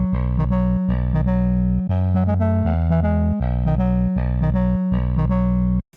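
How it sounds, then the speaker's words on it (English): A synth layer built from a saw wave and a noise sample, its amplitude modulated by the saw, pulses in a loud rhythmic pattern of buzzy chopped notes over a deep bass, running alone for six seconds. "It's just a saw wave and a noise sample, and its amplitude is being modulated by the saw wave"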